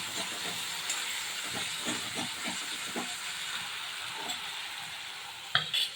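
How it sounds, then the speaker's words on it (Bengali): About two spoonfuls of poppy seed paste fry in hot oil, a soft steady hiss and sizzle with gentle stirring scrapes, ending in a brief louder knock. "এখানে 2 চামচ মতো পোস্ত বাটা আছে, এটাও আমি নেড়ে নেব"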